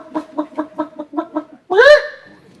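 A voice imitates a chicken with a quick run of about eight short, close clucks, then finishes with one loud, drawn-out squawk.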